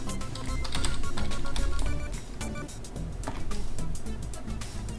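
Rapid keystrokes on a computer keyboard as a login, username and password are entered during an Ubuntu 14.04 server setup, a steady close clatter of dense clicks throughout.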